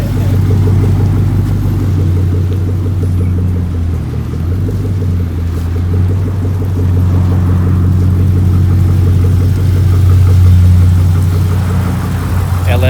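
Nissan R33 Skyline engine idling with a steady low rumble and a faint rhythmic knock from the bottom end, plus an exhaust leak, running continuously up close.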